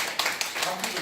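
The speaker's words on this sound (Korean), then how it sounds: "박수 한번 해주세요." Brief scattered clapping from an audience, a few sharp hand claps heard under a man's continuing speech.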